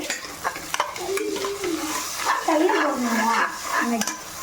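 Chicken biryani rice with ginger-garlic paste being stirred in a pot, a steady scraping and stirring with a soft frying sizzle underneath, close and fairly loud throughout.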